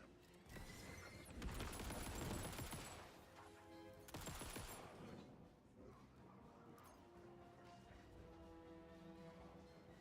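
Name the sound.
gunshots in the video game Alan Wake 2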